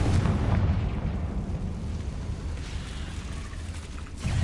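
A fiery Confringo spell blast in Hogwarts Legacy, a heavy booming explosion that rumbles low and steady, then a second thump at the end.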